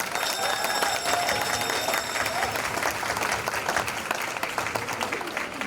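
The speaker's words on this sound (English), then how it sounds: "So I'd like to give them all a round of applause" Sustained audience applause for volunteers at the Happy Feat fundraiser, dense steady clapping from a room of people lasting throughout, with some crowd murmur mixed in.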